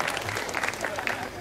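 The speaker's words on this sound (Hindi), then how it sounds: "ताली बजा कर लेते हैं" Audience applause at the Rajyamahotsav stage show in Janjgir, 2011: a dense, continuous patter of many hands clapping at once, moderately loud and sustained throughout.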